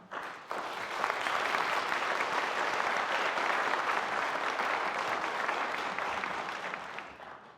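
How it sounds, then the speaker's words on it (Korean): Steady, dense applause from a large congregation welcoming a pastor at a joint Easter worship service in an indoor cultural hall, starting abruptly after a brief pause and holding evenly loud throughout. "박수로 환영하겠습니다"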